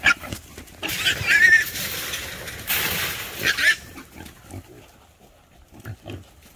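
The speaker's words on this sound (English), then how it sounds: "Another group of pigs got caught." Freshly trapped wild hogs grunt and squeal in two loud, harsh bursts, with shuffling and scattered clatter in between and quieter grunting at the end.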